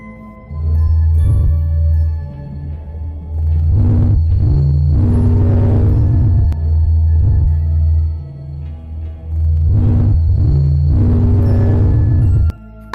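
A sonified space recording of the Sun: a loud, deep droning hum with a steady low tone, swelling several times into rough, noisy surges before fading back, alone with no talking.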